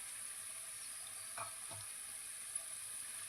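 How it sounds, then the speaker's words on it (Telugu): Gavvalu, little shells of jaggery, maida and wheat-flour dough, fry in oil with a faint, steady sizzling hiss and a couple of soft bubbling pops, heard without talk. "ఇలాగా మిగతావి కూడా వేయించుకుందాం."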